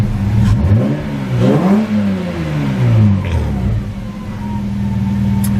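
A Toyota Supra MKIV engine idling unevenly, its pitch surging and dipping in slow waves, close and loud without talking.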